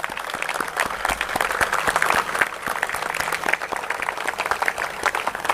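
A large seated audience at a Blue World City event stands and claps heartily, a dense, steady wash of applause lasting throughout with no pause.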